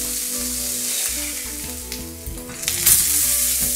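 Diced onion, celery and carrot sizzling loudly in a hot pan, a continuous crackling fry with a brief surge of spattering near the end and no voices.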